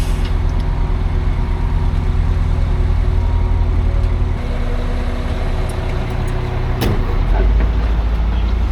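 An auction-bought semi truck creeping over rough ground while hauling equipment, a loud steady diesel drone heard from inside the cab, with low rumbling, rattles and a sharp clunk near the end.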